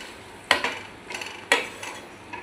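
A spoon stirring spiced boiled potatoes and chickpeas with kasuri methi in a pan, making two sharp scraping clinks a second apart followed by softer scrapes, close and quiet with no talk.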